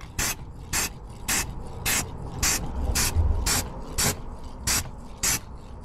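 Aerosol can of zinc-rich anti-corrosion coating sprayed heavily under a 2008 Smart Fortwo 451, about ten short hissing bursts in a steady rhythm at close range with no talk.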